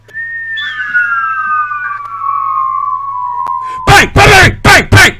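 Several people whistle together in long, sliding tones that drift slowly downward, mimicking a zombie horde, before loud bursts of talk and laughter break in near the end.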